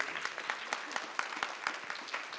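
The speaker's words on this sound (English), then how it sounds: "Another round of applause for that incredible feat" An audience at a technology and innovation event applauds an achievement in space travel, a steady, quiet and somewhat distant patter of many hands clapping.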